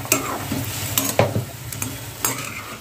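Paneer fries with masala in a pan over high heat, a steady close sizzle with a few metallic spatula scrapes and clinks at irregular moments.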